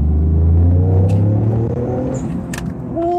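A GR Yaris or GP2 Mini Cooper pulling hard under acceleration, its deep engine rumble loud and close, steady throughout with no talk.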